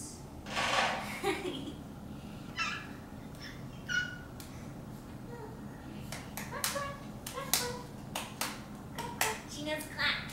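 A few light hand claps stand out in a quiet home setting, scattered and fairly soft, mixed with a young child's vocal sounds and brief adult talk.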